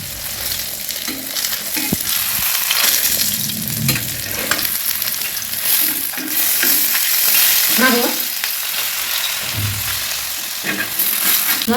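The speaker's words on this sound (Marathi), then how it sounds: "तेल आपलं तापलेलं आहे त्याच्यामध्ये आपली मच्छी ठेवून देऊया." Fish frying in hot oil over a very low flame, a steady crackling sizzle that holds even and close throughout, broken by a few soft stirring scrapes and clinks, with no voices.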